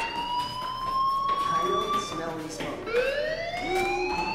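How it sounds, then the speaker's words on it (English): A school fire alarm from Life is Strange wails in long, rising and falling tones, loud and continuous, with a voice breaking in partway through. "Hey, do you hear that fire alarm?"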